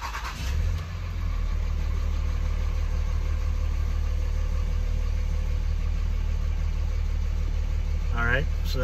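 A close 5.9 Cummins diesel pickup engine with a Spelab exhaust cutout cranks and catches, then settles into a loud, steady idle rumble that continues throughout; a brief voice sounds near the end.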